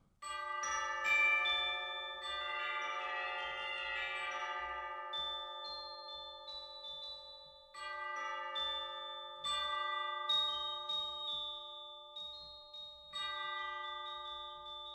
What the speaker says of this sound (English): If I play glockenspiel and tubular bells...